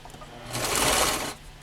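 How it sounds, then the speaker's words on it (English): A sewing machine runs in one steady burst as it stitches a fabric tote bag forward and back, starting after a short pause and stopping before the end, close and fairly loud with no talking. "I'm going to stitch forward and I'm going to back stitch."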